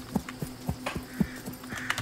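Hoofbeats of a horse in the Wild West Online video game, a handful of evenly spaced thuds at a moderate trot over a faint steady hum, no voices.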